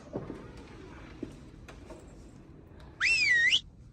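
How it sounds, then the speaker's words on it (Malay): A single bright whistle inside a bird shop, rising then bending down and up again over about half a second, loud and clear against a quiet room hum with a few faint knocks earlier. "Burung mana pula yang bersiul?"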